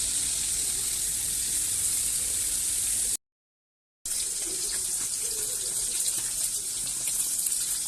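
Tap water gushes steadily into a sink as new potatoes are washed by hand, loud and continuous, with a brief silent break partway through before the flow resumes.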